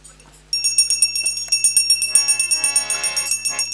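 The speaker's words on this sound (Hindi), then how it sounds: "घंटी शंख बजा दें" Temple bells ring in rapid, steady repeated strokes during a Satyanarayan puja, bright and close, starting abruptly and continuing without pause; no conch is clearly evident.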